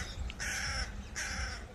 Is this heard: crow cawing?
yes